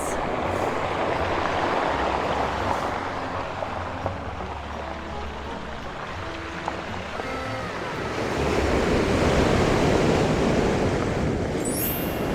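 Strong ocean waves crash and roll onto the shore in a continuous roar, mixed with gusty wind buffeting the microphone, swelling louder toward the end.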